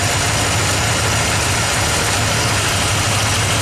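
A rebuilt Ford big block V8 idles with its number 7 fuel injector disconnected for a cylinder drop test, giving a steady, loud, continuous low rumble with no talking.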